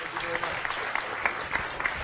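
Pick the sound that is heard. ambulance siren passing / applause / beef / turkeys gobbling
applause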